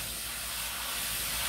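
A pressure washer sprays a fishing boat hull with a dense, continuous hiss and rush of water close by, steady and unbroken for the whole brief moment.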